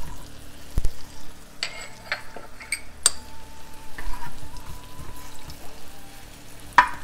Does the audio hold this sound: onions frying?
yes